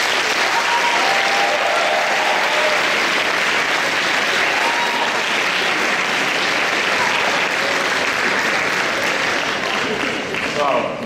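Audience at a YFS2019 closing-ceremony hall breaks into steady, dense applause welcoming a speaker to the stage, a continuous wash of clapping from a sizable crowd that holds for about eleven seconds before tapering slightly.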